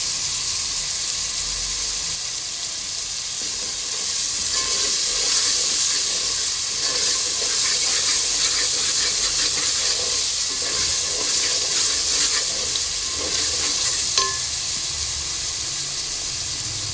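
Chickpeas fry and get stirred in a hot pan for Lahori chikar chhole, a steady loud sizzle and hiss with faint scraping stir sounds, and no voices.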